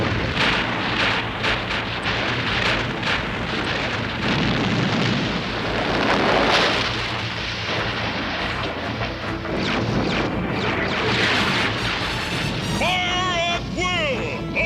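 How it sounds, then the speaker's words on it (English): Ships' guns fire in an animated G.I. Joe naval battle, a dense, continuous wash of booming blasts and crashes, with a voice shouting near the end. "Return fire! All ships return fire!"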